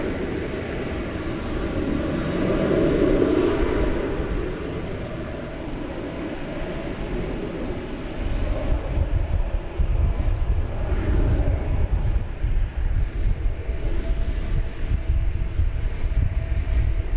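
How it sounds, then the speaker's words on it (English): An Airbus A350-900 airliner at DFW airport rumbles with a broad engine roar, swelling into a louder, rough low-frequency thunder about halfway through, heard from a distance with no talk. "This is an A350-900"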